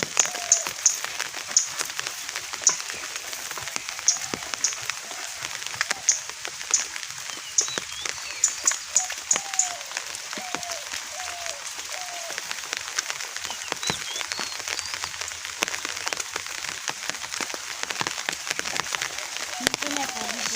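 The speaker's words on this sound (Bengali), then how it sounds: "বৃষ্টি কমে গেছে না?" Steady rain falls on a village home during cooking, a constant patter with scattered close drips and crackles throughout, while a few soft bird calls sound in the background and people talk faintly.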